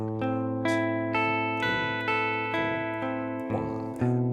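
Clean electric guitar picks the opening riff of a song, the first line of the tab: steady repeated single notes over a droning low string, moderately quiet and close, with no voices.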